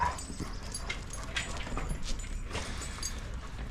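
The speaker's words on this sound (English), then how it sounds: "When you see dogs growling, it's just another form of verbal communication." Several dogs play roughly together, with small whimpers, yips and muffled growly vocal bursts scattered over a constant background, fairly close and moderately loud, with no talk.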